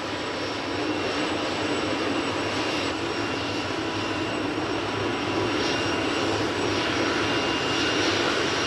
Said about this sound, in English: My engines are revving faster and faster and faster! My tail rotor is speeding up,